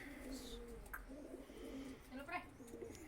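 Pigeons of the Kane Wali breed coo softly in repeated low, throaty phrases, faint and close, with light chirps and some background noise.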